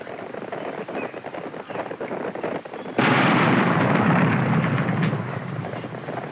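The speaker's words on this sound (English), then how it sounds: "We'll detonate the cannons from our blind." Wildlife-capture net cannons fire: a scattered crackling rumble gives way to a sudden loud blast that roars on for a few seconds before easing off.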